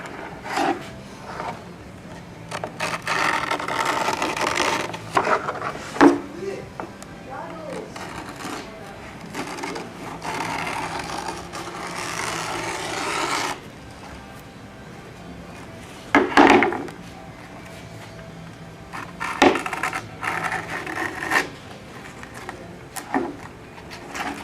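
A blade slices skateboard grip tape along the board's edge in bursts of gritty rasping scrapes, close and fairly loud, separated by quieter pauses and some talking.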